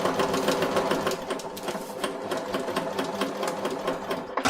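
A sewing machine stitching a curved seam on a pin-tuck shirt runs in a fast, even mechanical chatter of needle strokes, loud and close, with no voices.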